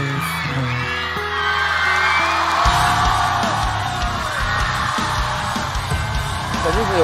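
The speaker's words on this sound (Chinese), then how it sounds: "肯定是有掌声" A live singing show audience bursts into cheering, whoops and applause that swell loudly over the fading music, with crowd voices shouting throughout.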